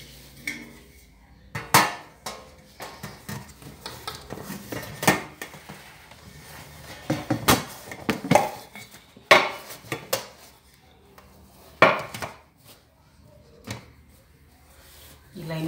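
Corn pamonha cake with cheese being unmolded from its pan: a series of sharp metallic knocks and clatters, tapping and scraping of pan and utensils at irregular intervals, close and fairly loud, with speech in between.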